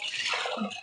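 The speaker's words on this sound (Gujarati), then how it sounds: "જરૂર પ્રમાણે પાણી લઈશું" Water splashes briefly into a pressure cooker holding potatoes and dried peas set for boiling, a short, close, bubbling pour.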